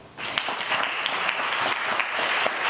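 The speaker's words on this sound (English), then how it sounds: "with a round of applause, let us celebrate Jens Ludwig" Warm, steady applause from a leadership-academy kickoff audience greeting speaker Jens Ludwig, dense clapping rising quickly and holding at an even level, close and full.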